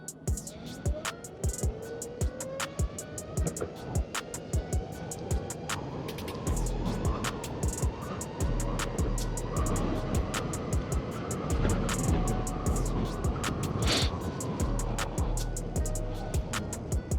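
A Meepo GO electric skateboard ridden in S Plus mode outdoors: a steady electric motor whine rises at launch over continuous wheel rumble and wind noise, loud and close for the whole run.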